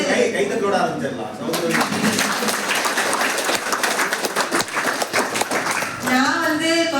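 Audience clapping at a motivational talk for exam students, a dense burst of hand claps in the middle, with a speaker talking before and after it.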